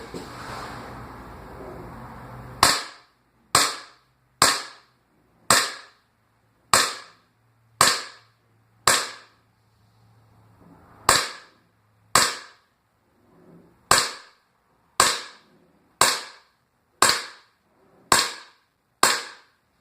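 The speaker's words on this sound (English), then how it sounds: "I'm proceeding to shoot." Pistol gunshots fired one at a time at a target beside a garage outdoors, about fifteen sharp loud cracks spaced roughly a second apart after a brief stretch of quiet background noise.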